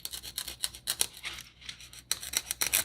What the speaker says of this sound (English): I'm just going to take my X-Acto knife and I'm just going to cut some of that off just to round it out